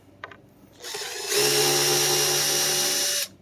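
A cordless power drill drives a screw into a wooden sawhorse, with a couple of light knocks first, then a steady, loud whir for about two seconds before cutting off. Close by, with no talk.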